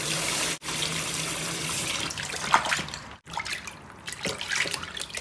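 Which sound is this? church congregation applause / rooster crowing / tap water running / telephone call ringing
tap water running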